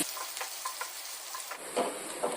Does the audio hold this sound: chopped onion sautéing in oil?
yes